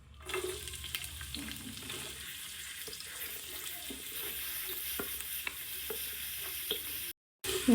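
Onion and green chillies frying in hot oil hiss and crackle steadily at moderate level with scattered pops and light stirring, cutting briefly to silence just before the end.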